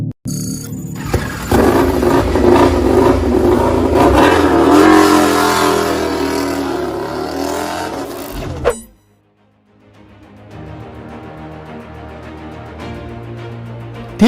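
WRC rally car engine accelerating hard, a loud, close rising roar for about eight seconds that cuts off abruptly, followed by a quieter, lower engine sound to the end, with no talking.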